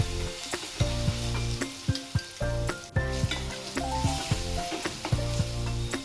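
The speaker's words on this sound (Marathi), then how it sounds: "आपण जी आता पेस्ट मिक्सरमध्ये फिरून घेतली होती ती याच्यात याच्यामध्ये टाकायची आहे" Ground spice paste dropped into hot oil with crackling mustard seeds for a samosa filling, sizzling loudly and continuously with sharp pops and stirring scrapes close by, no voices.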